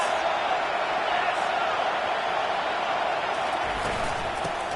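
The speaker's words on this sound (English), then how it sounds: "This crowd trying to make life miserable for this offense." Stadium crowd roar from a college football video game between the Ragin' Cajuns and Miami, a steady loud wash of many voices filling the whole stretch with no clear breaks.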